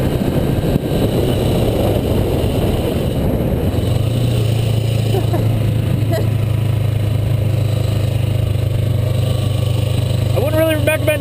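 Light Ninja motorcycle of about 200 pounds under throttle while riding, a loud steady engine drone with pitch that steps up as it accelerates, under ongoing talk and wind noise.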